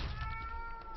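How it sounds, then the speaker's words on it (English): A cat meows faintly and briefly in the background of a live StarCraft esports match broadcast, one short, soft cry. "Sorry for the cat sounds in the background."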